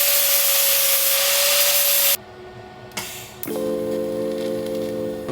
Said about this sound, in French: Je vais mettre un coup de disque flap.